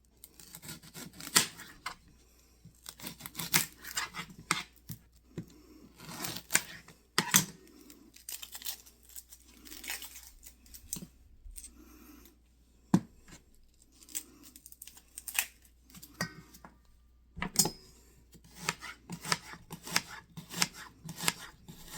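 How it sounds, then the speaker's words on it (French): An onion being cut finely with a knife, irregular sharp chopping clicks and taps in bursts across the stretch, close up against a quiet background with no talk. "On va couper un oignon."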